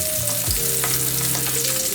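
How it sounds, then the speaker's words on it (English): Steady broadband sizzling of salmon skin frying in a hot pan, continuous and close, with faint tonal hums and a brief low thump partway through. "Hear that sizzle?"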